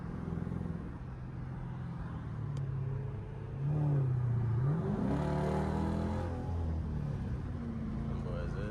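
A straight-piped Dodge Durango engine revs loudly under a steady low rumble, its pitch sweeping up and down mid-way.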